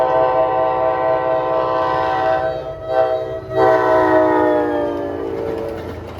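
A loud, sustained locomotive horn blares over the low rumble of a passing NJ Transit Geep diesel train on the Main Line, with a brief dip in the middle before the horn resumes.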